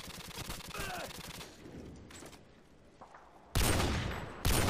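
Gunfire in Modern Warfare 2, with rapid shots crackling up close at the start, a quieter lull, then two loud, sharp bursts of fire near the end.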